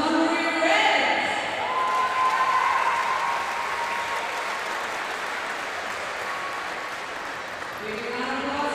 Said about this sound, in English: Big round of applause for USA Live.